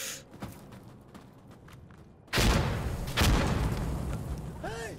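A frag grenade detonates in Insurgency Sandstorm with a sudden loud broadband blast partway through, followed by a second burst and lingering rumble, over quieter background ambience and a faint voice.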